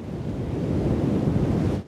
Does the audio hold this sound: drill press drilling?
no